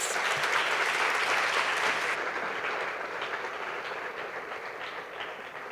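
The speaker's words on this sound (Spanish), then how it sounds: "demos por favor un caluroso aplauso" Warm audience applause in a theatre during a conference, dense sustained clapping filling the room, loud at first and easing slightly in the last few seconds, with no speech.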